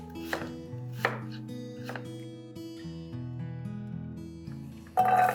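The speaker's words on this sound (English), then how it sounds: "let's quickly chop up some vegetables. And along with this, some potatoes." A knife chops vegetables and potatoes on a board, several distinct close chops landing about once a second over soft background hum.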